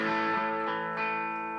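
An electric guitar played through a volume pedal and two distortion pedals rings out as one sustained, heavily distorted chord, thick and buzzing, swelling slightly in the middle.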